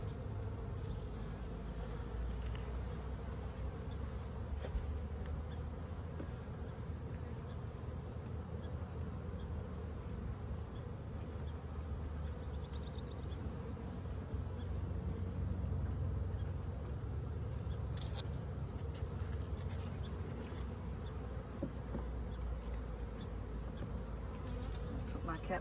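Honey bees drone in a soft, continuous buzz while a hive is opened for inspection coming out of winter, a faint and steady swarm hum with no voices.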